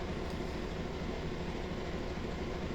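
An E8A diesel locomotive in Train Simulator Classic, on the Chicago commuter line, rumbles as a steady, broad engine drone, held at a constant level for the short stretch.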